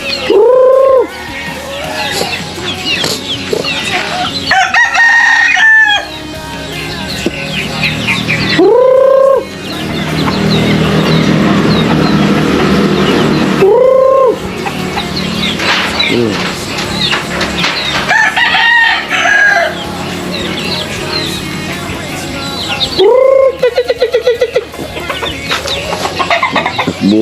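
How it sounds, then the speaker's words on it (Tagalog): Chickens cluck steadily while roosters crow several times, loud and close, with a busy farmyard din of other birds filling the background. "Nagutom na tong mga manok."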